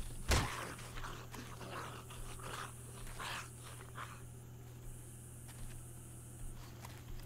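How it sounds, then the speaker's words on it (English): Dogs in the video game 7 Days to Die, a pack heard through a game soundtrack: a sharp burst at the start, then scattered faint whimpers, growls and footsteps over a steady low hum. "I think I found where all the dogs and all the crawlers spawn."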